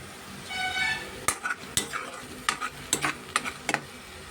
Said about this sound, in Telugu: అలా మనం ఫ్రై చేసుకుందాం.